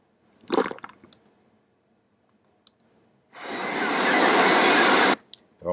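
A water sound effect plays back from an audio editor track: a few soft clicks, then a loud gushing, splashing rush of water lasting about two seconds before it cuts off.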